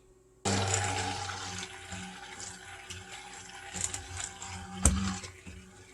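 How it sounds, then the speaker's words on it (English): Lye solution containing sodium lactate poured into olive oil cold process soap batter, a sudden start into a continuous close pouring rush that runs several seconds, with a sharp clink near the end. "we're going to go ahead and pour in our lye solution, and this does have sodium lactate in it"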